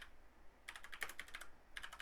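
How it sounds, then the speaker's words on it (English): Soft, close typing on a computer keyboard: a short run of clicky keystrokes, a pause, then a few more taps, quiet overall. "I'm going to type in a brief"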